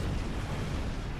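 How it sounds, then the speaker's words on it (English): Transphaser torpedoes explode in the space game Star Trek Online, a dense, loud rumbling blast that fills the short stretch with heavy low-end roar. "God damn transphaser torpedoes."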